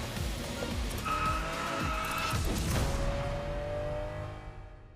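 Lamborghini Countach in The Crew Motorfest racing game, its engine wailing loudly and continuously with a rising howl, tires squealing and skidding over the sustained roar before it fades slightly near the end.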